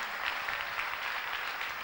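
Steady applause from a church congregation acclaiming the Lord, a dense unbroken patter of many clapping hands filling the room at even loudness, with no voices standing out.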